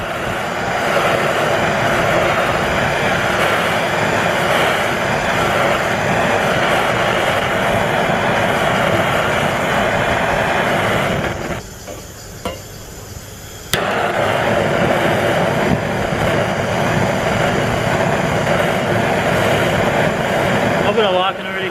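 A torch with a blue flame heats the welds on a Yamaha YZ motorcycle, giving a loud steady roaring hiss that drops away briefly for about two seconds before it resumes.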